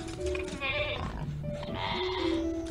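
Sheep bleating in a video game, a few drawn-out wavering bleats layered over game ambience and overlapping animal calls, fairly loud and close throughout with no talk.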